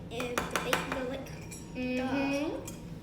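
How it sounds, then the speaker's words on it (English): A butter knife scrapes and clinks around the inside of a bowl to loosen a molten chocolate lava cake, giving several sharp taps followed by a longer grinding scrape, up close. "with a knife, like a butter knife, and the back end, you are going to literally go like this around. Just to like separate it from the bowl"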